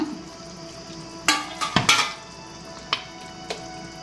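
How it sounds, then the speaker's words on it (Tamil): Fish curry (meen kuzhambu) simmering in a pot, a low steady bubbling bed broken by a few sharp clinks and stirring knocks of utensils against the vessel, close and fairly quiet with no talking. "குழம்பு கொஞ்சம் நேரம் கொதிச்சிட்ருக்குது"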